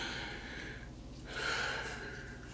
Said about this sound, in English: Sorry about the yawn.